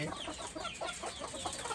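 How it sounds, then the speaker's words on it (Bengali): Local desi chickens clucking in a farm shed, a steady busy chorus of overlapping soft clucks and calls at moderate distance throughout. "হুম এইখানে রাখা হয় দেশি মুরগিগুলো"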